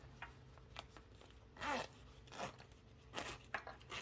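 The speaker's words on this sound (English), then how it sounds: "Actually, open up your zipper." A zipper on a sewing project is opened in a few short, quiet zips, separated by soft fabric-handling noises in a still room.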